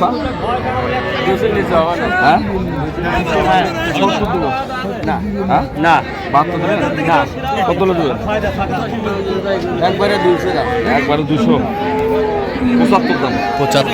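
Dairy cows and calves at the Raniganj village cattle market in Dinajpur, with low moos rising over constant crowd chatter and bargaining voices nearby, people talking throughout.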